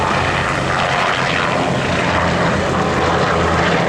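A Bell OH-58 Kiowa US Army military helicopter flies during a joint Greek-US military exercise at a firing range, making a loud, steady, close engine roar that does not let up, with no one speaking.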